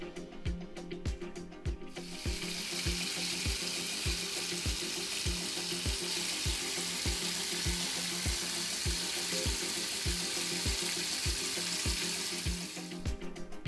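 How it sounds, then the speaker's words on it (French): Fish being scrubbed clean inside and out with half a lemon and water at a kitchen sink: a steady, fairly loud rush of running, splashing water lasting about ten seconds, over a regular thumping music beat, with no talking. "on frotte bien notre poisson de l'intérieur à l'extérieur"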